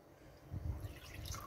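Water poured into a simple sauce of sweet chili sauce, lemon juice and rapeseed oil for cod fritters, heard as a brief, faint liquid trickle and splash close by, with no talking.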